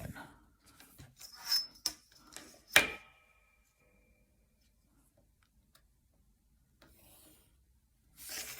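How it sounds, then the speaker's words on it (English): Scratchy strokes of a pen or pencil drawing lines for a handmade Christmas decoration, several quick rubbing passes in the first few seconds, then a pause and one more short stroke near the end. "I'm drawing the lines"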